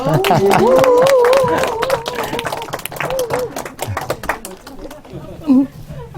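An audience claps in a burst of applause while voices call out over it; the clapping thins out toward the end.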